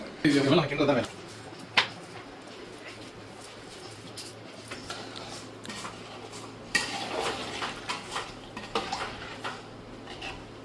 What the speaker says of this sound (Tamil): இந்த கிட்டத்தட்ட நம்ம ஒரு 10 நிமிஷம் இப்படி கண்டினியூஸா கிண்டிக்கிட்டே இருந்து